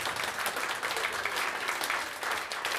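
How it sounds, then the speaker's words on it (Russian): A concert audience gives sustained, even clapping with no voices, a full crowd sound that stays steady for nearly three seconds. "слышать ваши аплодисменты"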